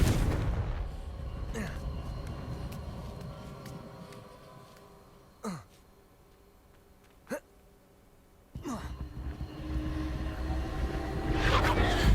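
Confringo fire spells blasting in the Hogwarts Legacy video game, with a few sharp explosive bursts spaced apart over a droning game soundscape, moderately loud.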